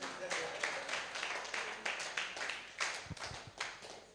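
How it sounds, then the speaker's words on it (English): Audience at a career development workshop for public servants clapping, a loose, moderately distant patter of hand claps with uneven rhythm and a few louder individual claps, faint murmuring voices underneath. "clap for me now"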